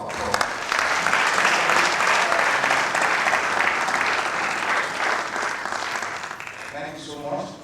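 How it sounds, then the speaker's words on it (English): An audience at an agricultural research council visit breaks into sustained applause, loud and dense clapping that tapers off near the end as a voice begins speaking. "I believe the years deserve another round of applause"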